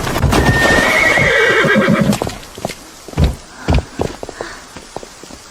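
Horses neigh loudly and close by for a couple of seconds, then hooves clip-clop in a slow, uneven walking rhythm as the whinnying fades out.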